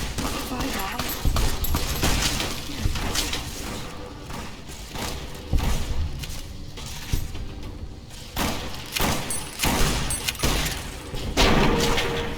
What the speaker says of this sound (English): those guys have plasma grenades.